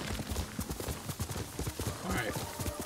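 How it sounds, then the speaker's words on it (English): Horse in the video game Ghost of Tsushima, a fast, steady clip-clop of hooves at a trot or gallop, moderately near, with a short whinny-like sound partway through. "No matter where you go, the horse comes to you!"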